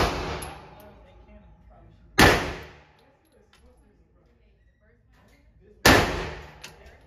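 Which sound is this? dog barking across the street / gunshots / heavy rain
gunshots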